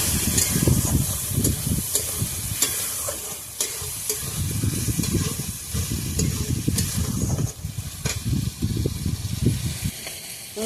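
Chili powder fries and sizzles in a pan, with a loud, continuous crackle broken by repeated scraping strokes of a spatula as it is stirred, and no voices.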